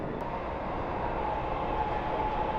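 A Dubai Metro train runs steadily, a broad continuous rumble and rolling roar with a faint tonal whine, loud and even throughout with no talk.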